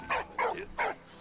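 A dog in the video game Valiant Hearts gives three quick, clear barks in an even rhythm, close and loud with no other sound around them.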